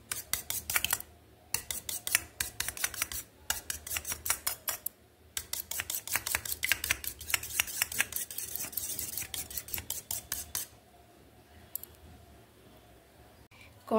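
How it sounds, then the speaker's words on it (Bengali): Eggs with salt are beaten in a bowl, a rapid, steady run of close clicking and tapping strokes with brief pauses, fairly quiet and with no talk over it, ending in near silence. "নুন দেবার পরে ডিমগুলোকে এইভাবে নুন মিশিয়ে নিচ্ছি ডিমের সঙ্গে।"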